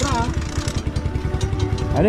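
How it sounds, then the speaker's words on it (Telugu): A damaged motorcycle engine runs close by with a steady, rough, pulsing idle that holds throughout, and someone speaks briefly over it. "ఇంజన్ సౌండ్ వస్తుంది."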